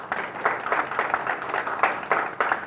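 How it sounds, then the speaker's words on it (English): An outdoor audience at a Patriots For The People motorcycle freedom ride applauds Shadow Patriots of Pennsylvania with steady, fairly faint clapping that swells in uneven bursts and carries on without pause. "if you could give them a round of applause after I name each of them"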